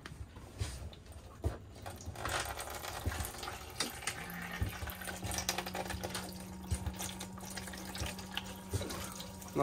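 Water runs from a galley tap aboard a Buccaneer cruiser boat, a soft, continuous splashing close by, with a low pump hum joining partway through and occasional knocks and clatter.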